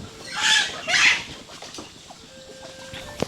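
Chickens clucking in a small mountain-valley village, two loud bursts of squawking close by, then quieter scattered clucks and faint background calls.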